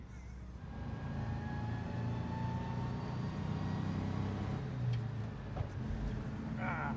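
A 1951 VW Samba bus drives up a hill on the autobahn, its engine giving a steady, muffled low drone with road rumble heard from inside, unbroken throughout.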